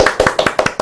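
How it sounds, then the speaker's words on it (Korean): Studio hosts of a Korean political talk show giving a sparse, awkward round of hand claps: a handful of close, distinct claps at an uneven pace, with no speech. "저와 함께 옆에서 어색한 박수를 보내주신"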